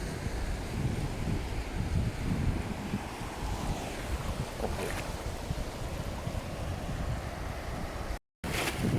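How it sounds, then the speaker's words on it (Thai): Strong surf breaking along a beach during monsoon season: a continuous, loud wash of waves with heavy wind buffeting the microphone throughout, and a brief dropout near the end. "คลื่นจะแรงโอ้โหคลื่นแรงนะครับ ทุกคนนี่ขนาดริมหาดริมชายหาดนะครับ"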